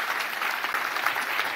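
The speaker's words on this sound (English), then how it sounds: "let's give these two gals a big applause." Applause from a church congregation, steady and dense, many hands clapping at once with no voices standing out.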